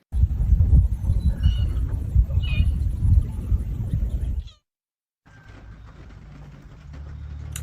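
A cat near horses gives a few short meows over a rough, rumbling background, then the sound drops to a quieter steady hum.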